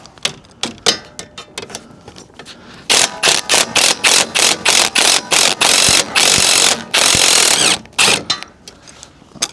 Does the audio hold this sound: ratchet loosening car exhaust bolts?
yes